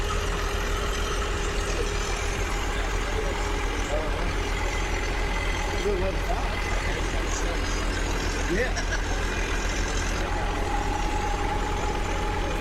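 The diesel engine of a ZD 1511 mower runs steadily during DPF filter cleaning, a constant loud idle drone with no break, while people talk faintly over it.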